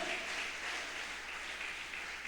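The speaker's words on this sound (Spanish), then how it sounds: "Denle un aplauso al Señor." Congregation applauding in a church, a steady wash of clapping lasting a couple of seconds at moderate distance, fairly soft.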